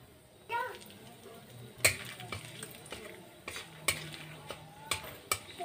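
Whole garam masala, dried red chili and bay leaf fry in hot oil in a kadai with a steady sizzle, punctuated by sharp clinks and scrapes of stirring at irregular intervals.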